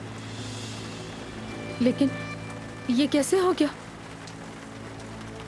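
Rain falls steadily outside a stalled car at night, a soft continuous patter under the scene, while someone briefly speaks over it.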